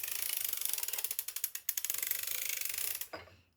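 Circular sock knitting machine cranked by hand, producing a rapid run of close, crisp ratcheting clicks with a steady rhythm that briefly slows midway and then stops.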